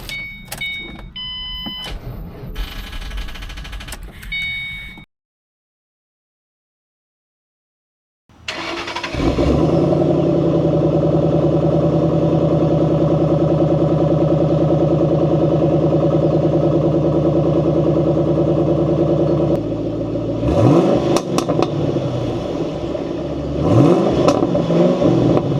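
A car engine starts after about four months unused, cranking and catching, then holding a loud steady idle before rising into sharp revs near the end.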